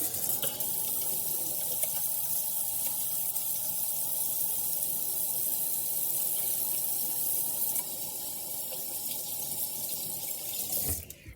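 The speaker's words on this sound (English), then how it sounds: "we're gonna wash our hands in hot water for 20 seconds" Hot tap water runs steadily into a kitchen sink while hands are washed, a close, even rushing hiss that continues unbroken and stops abruptly at the end.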